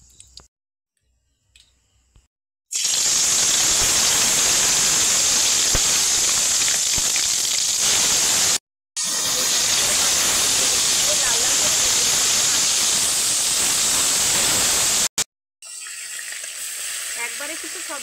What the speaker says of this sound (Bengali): মাছগুলো ভাজার জন্য দিয়ে দেবো সাদা তেল।